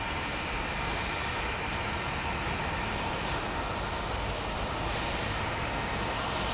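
Aircraft engines taxiing at Heathrow Airport, a continuous broadband roar and whine holding steady and fairly loud, with no talk.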